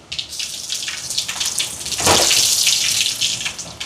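Mustard seeds and curry leaves sizzle in hot oil while tempering rasam, a steady crackling hiss with no one talking that swells louder just past the midpoint.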